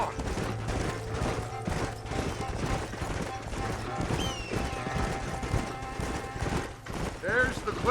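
Horse hooves clip-clop at a gallop in the Red Dead Redemption western video game, a steady rhythmic thudding under in-game voices talking, with a brief crash and a faint whinny near the end.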